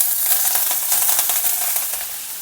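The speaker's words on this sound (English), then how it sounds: "Heat a oil in a pan. Add some mustard seeds, Channa dal, a few curry leaves" Mustard seeds, channa dal and curry leaves sizzle and crackle loudly in hot oil in a pan, a steady dense hiss with rapid popping throughout, close and alone.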